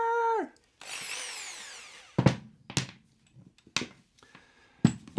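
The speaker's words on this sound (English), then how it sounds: "maybe the drill gives it away" A power drill whirs in a long rising whine, followed by several short sharp bursts of drilling into a cracked cymbal with brief pauses between.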